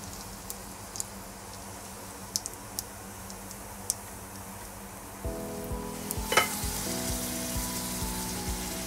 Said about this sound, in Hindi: घी हमारा अच्छे से गर्म हो गया है, इसे हम तलते हैं राज कचौड़ी को।